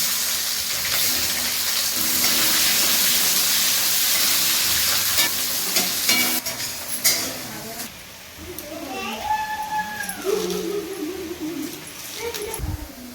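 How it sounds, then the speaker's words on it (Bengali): Chopped onion sizzles loudly in hot oil with cumin seeds and bay leaf as a tempering for a spicy fish curry; the frying hiss dominates for several seconds, then eases as chirping sounds emerge. "ফোড়নে আমি জিরে দিয়ে দিচ্ছি তেজপাতা দিয়ে দিচ্ছি কুচানো পেঁয়াজ দিয়ে দিয়ে দিচ্ছি"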